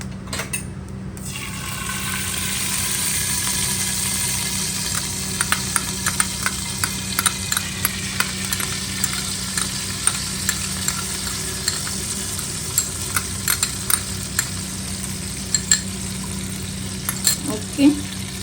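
Ghee sizzles in a pan for a tempering, part of a traditional Ganesh Chaturthi naivedya meal. A constant frying hiss carries sharp, scattered pops and crackles that grow more frequent after the first few seconds.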